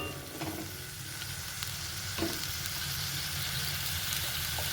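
Hog plum seeds cooking in a small amount of water in a pot give off a steady, close bubbling sizzle that holds level throughout, with a few faint clinks on top and nobody talking.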